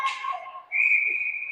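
A referee's whistle blows in a 14-and-under boys' youth ice hockey game: one sustained, piercing shrill blast lasting nearly a second, following a short burst of rink noise.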